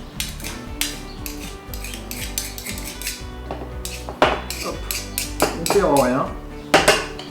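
A spoon scrapes and clinks against a container while radish-top pesto is spooned in, giving irregular metallic taps and scrapes, with a brief voice speaking partway through.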